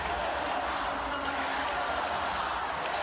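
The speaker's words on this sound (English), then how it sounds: "And you can hear the Hawkeye crowd." Home crowd at an Iowa Hawkeyes women's basketball NCAA Sweet 16 game against Colorado, a steady, dense arena roar that holds level from start to finish.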